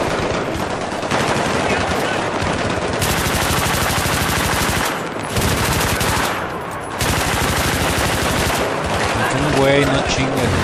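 Light machine gun fire from the Battlefield 3 campaign runs in long, loud, sustained automatic bursts broken by a few short pauses, with chatter and speech under the din.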